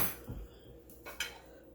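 A spoon scraping and clinking through a cooled spinach, mushroom and shallot mixture, a few quiet metallic taps over soft background hiss.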